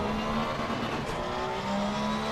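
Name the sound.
race car engine revving in a sim racing video game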